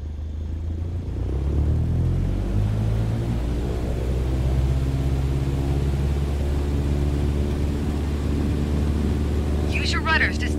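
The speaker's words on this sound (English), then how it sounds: "Apply full power and I'll walk you through the takeoff as we go." Simulated aircraft engine held at full takeoff power in Microsoft Flight Simulator 2020, a loud, steady, droning rumble whose tones climb slightly as the throttle spools up, continuous throughout.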